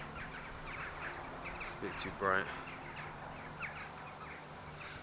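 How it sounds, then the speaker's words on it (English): Crows cawing outdoors in a muddy open area, a short burst of harsh calls midway standing out over steady background noise, with a person speaking briefly nearby. "Oh, look at these birds."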